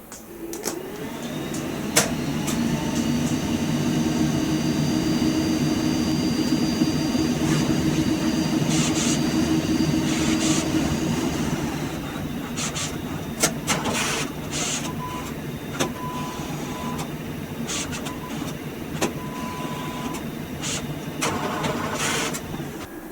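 An Epson 9800 large-format printer running a nozzle check: a steady mechanical whir and hum for about ten seconds, then quieter carriage movement broken by sharp clicks and clacks, heard alone at moderate distance.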